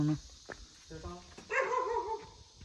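A person speaks briefly, then a dog gives a drawn-out, wavering bark outside a thatched house in Wayanad, moderately loud.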